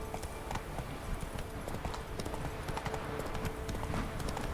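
Hooves of the horse Roach in The Witcher 3 clip-clopping in a steady, quick rhythm, fairly soft and close, with faint ambient game sound around them.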